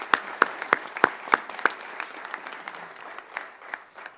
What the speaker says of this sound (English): Let's give them a round of applause for their great work.